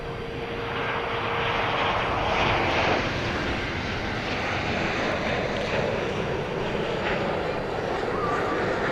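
A Frontier airliner takes off at DFW Airport, its jet engines a loud, broad roar that swells and holds steadily throughout.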